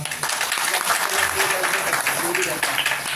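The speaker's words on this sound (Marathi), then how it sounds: "जोरात टाळ्या वाजवा." Audience clapping loudly at a devotional Hanuman bhajan program, a dense steady wash of applause that carries on without pause.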